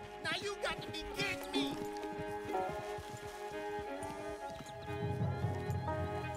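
Hoofbeats of a horse clip-clop through a Red Dead Redemption 2 scene while a horse whinnies, all under steady talk and background game music.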